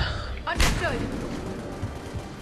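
A grenade blast in the Mass Effect 3 video game, a single loud explosive burst with a sharp attack and a rumbling tail, backed by further gunfire-like thuds.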